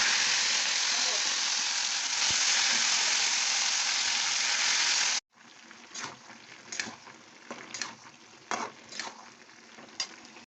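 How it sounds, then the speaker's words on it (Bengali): Boiled vegetables for pav bhaji tipped into hot oil in a kadai: a loud, steady sizzle for about five seconds, then quieter crackling with scattered stirring scrapes and clinks. "তেল গরম হয়ে গেছে, এবার আমি সবজিটা দেবো।"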